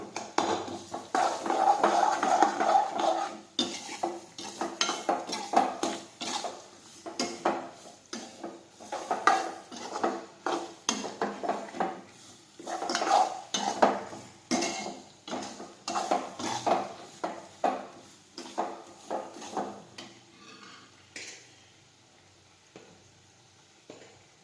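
A spoon stirs and scrapes spices into kantola vegetable curry in a pan, giving a steady run of close, rhythmic metallic scrapes and taps with a faint sizzle, without talk.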